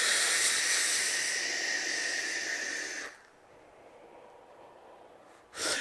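A vape with a Framed coil in a direct-lung atomizer hisses in a long, steady draw for about three seconds, then stops into near silence before a brief hiss returns at the end.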